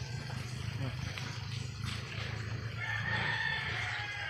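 A hen in a rural yard clucks and cackles while laying eggs, with rooster-like calls over steady outdoor background noise. A person talks nearby.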